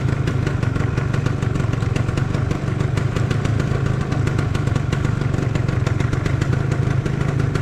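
A dragster motorcycle left standing outdoors for two years idles after its first start, a loud, close, steady, throbbing engine with a rapid rough clatter, continuous and alone.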